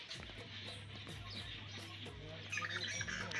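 Many small birds chirp and tweet busily together outdoors in the Uttarakhand hills, agitated after eagles swooped in, a dense, noisy chatter over a low steady rumble, growing livelier toward the end.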